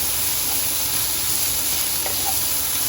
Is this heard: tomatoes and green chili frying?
yes